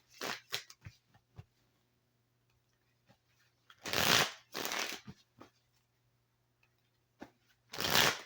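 Tarot cards being shuffled in several short crisp riffling bursts separated by pauses, close and fairly loud with no talking.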